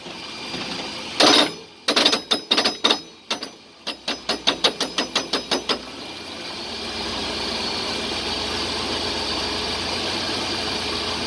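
A Jeep/Dodge NP247 Quadra-Trac transfer case gives a loud run of rapid clunking knocks that speed up into a rhythmic ratcheting series, then stops, leaving a steady engine idle drone.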